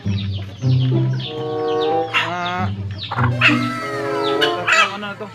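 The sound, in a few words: hen clucking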